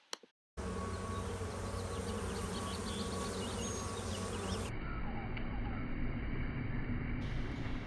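After a brief quiet moment, a dense, loud, continuous buzzing of many honey bees close by at a hive.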